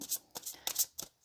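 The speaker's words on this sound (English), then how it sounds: "I'll shuffle a little bit more and then I'll cut the deck." Tarot and oracle cards being shuffled by hand, several quick papery riffling bursts close up in a rapid irregular rhythm.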